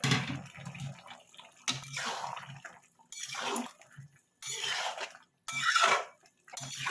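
A watery fish, potato and bean curry is stirred in a pan, with intermittent bursts of wet scraping and clinking separated by quiet gaps.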